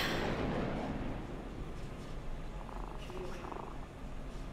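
A cat in the Cyberpunk 2077 video game purrs steadily and close for several seconds, a soft continuous rumble over a faint game background.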